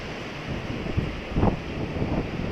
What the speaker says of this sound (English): it's quite leafy and very windy